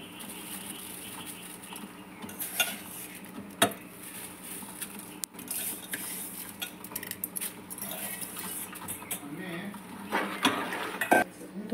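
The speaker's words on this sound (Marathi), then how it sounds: "आता शेवया घालूया" Vermicelli going into a pan while cooking sheer khurma, the sweet milk dish, with scattered clatters of a spoon and cookware, soft scraping and pattering knocks over a quiet background.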